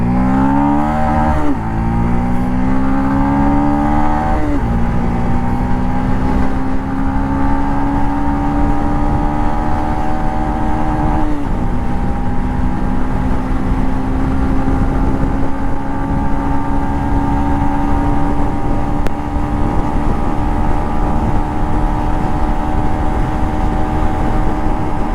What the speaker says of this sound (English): And the exhaust note is nice, man. It has that bassy feel. Let's pull it hard.